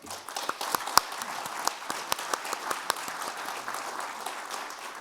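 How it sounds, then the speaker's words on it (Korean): An audience at a national assembly suicide-prevention policy seminar opens the event with applause, a moderate crowd of claps with a few sharp louder slaps standing out, steady for the whole stretch. "힘찬 박수로 행사를 시작하겠습니다."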